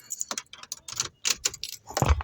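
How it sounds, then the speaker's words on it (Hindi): Car keys jangle and clink in quick bursts close by as they go into the ignition of a Honda City ZX fitted with a CNG kit. "एक बार मैं आपको ऑन करके दिखा देता हूँ चाबी लगा के।"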